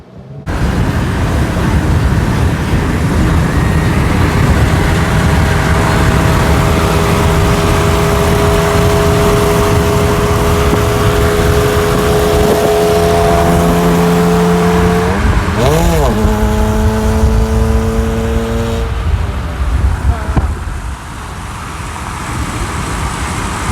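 An old Toyota Celica is driven with its engine running loud and steady, its pitch rising through the gears as it pulls away, with a person talking over it.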